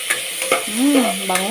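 Onion, garlic, tomato and ginger sautéing together in a pan, a continuous close sizzle with stirring scrapes, and a voice speaking briefly over it.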